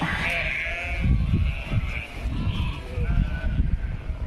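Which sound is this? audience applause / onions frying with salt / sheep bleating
sheep bleating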